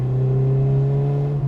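A 1980s Ford Fiesta XR2 engine revs hard in second gear, a loud steady drone heard from inside the car with a brief dip at the very end.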